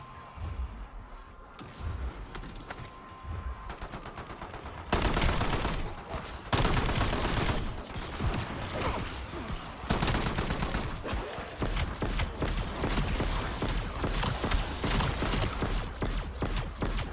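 Dense, continuous gunfire from a zombies video game, rapid bursts and overlapping shots fired nonstop at close range, loud throughout with a few louder volleys after the first seconds and no talk.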